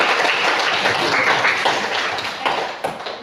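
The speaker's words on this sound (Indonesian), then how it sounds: "beri tepuk tangan untuk itu" Classroom audience applauding a poetry recitation, a dense burst of many hands clapping together that holds steady and then thins and fades toward the end.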